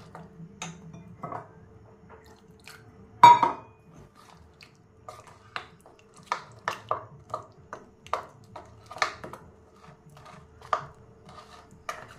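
Batter for paneer sticks is mixed with a little water in a bowl, giving sparse, quiet clicks and taps of a spoon against the dish with short pauses between them and no one talking.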